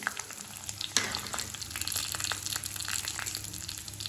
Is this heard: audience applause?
no